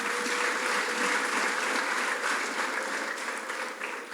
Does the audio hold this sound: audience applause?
yes